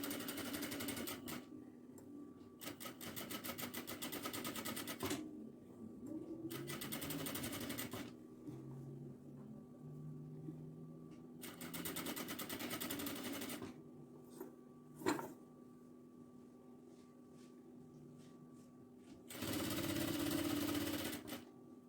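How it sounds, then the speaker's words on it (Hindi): A sewing machine stitches the outer edge of a pocket on a cotton kurti, running in several bursts of steady whirring, each a few seconds long, with quiet gaps, small handling clicks and soft room noise between them. "ये भी पॉकेट के बाहर की स्टिचिंग में कर रही हूँ।"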